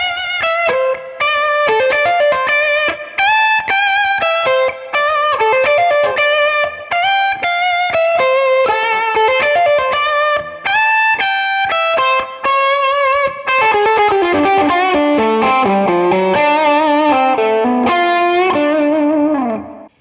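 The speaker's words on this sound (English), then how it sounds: "As you bring down the tone control, you get that nice woman tone." Electric guitar played through a Kemper amp profiler with the tone control rolled down, giving a darker, rounded lead tone; a steady, loud run of picked notes and chords rings continuously with effects and light distortion, no voices.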